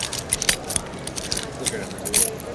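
Car keys jangle and clink in quick, close bursts, bright metallic rattles scattered over a couple of seconds with faint background noise.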